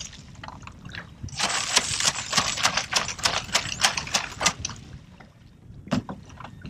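A chum churn with blades inside a pipe, shaken underwater while reef fishing, giving a rapid series of sloshing, knocking bursts over a watery background, with a single later thud.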